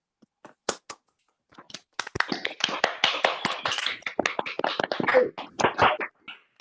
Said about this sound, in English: can we unmute and have a round of applause?